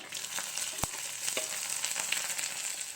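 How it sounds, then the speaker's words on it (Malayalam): Chopped shallots frying in hot oil with popping mustard seeds for a Kerala erissery, an even bright sizzle throughout with one sharp knock and a few light scrapes, no voices. "കടുക് പൊട്ടി വരുമ്പോൾ നമുക്ക് അരിഞ്ഞ് വെച്ചിരിക്കുന്ന ചെറിയുള്ളി ഇട്ട് കൊടുക്കാം"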